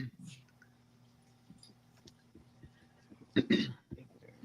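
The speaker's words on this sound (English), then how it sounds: "I'm still coughing" A person coughs and clears their throat indoors, a quiet throat sound at the start followed by a louder, harsher cough burst later, amid faint clicks and a low background hum.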